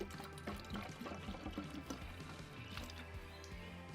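Water poured into a cracked motorcycle coolant tank for a leak test on a CX500 scrambler, with close, faint gurgling, splashing and dripping in an uneven rhythm and no talking.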